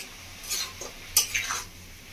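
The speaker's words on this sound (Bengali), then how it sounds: "ভালো করে মশলাটা কষে নেব।" Spice paste is stirred and fried in a pan over a raised gas flame for a Bengali cabbage and fish-head dish. A few faint, scattered spoon scrapes and clinks sound against a quiet background.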